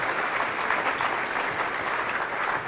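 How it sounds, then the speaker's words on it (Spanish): Loud, steady applause from a church congregation at a Catholic priest's talk, a dense wash of clapping that holds evenly throughout with no voices over it. "fuerte el aplauso porque ustedes están movidos por el Espíritu Santo de Dios"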